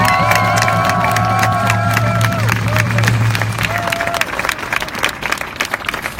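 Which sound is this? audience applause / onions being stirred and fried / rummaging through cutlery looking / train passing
audience applause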